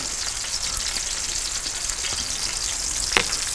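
Sauerkraut, onions and pepper sizzle on a camp stove beside German brats, a steady close crackling hiss with a brief clatter near the end.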